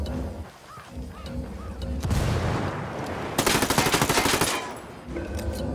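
Heavy gunfire in Ghost Recon Wildlands: sustained automatic bursts crackle across the middle of the scene, peaking in a dense rattling fusillade before cutting off, with lighter shots and tonal chirps around it.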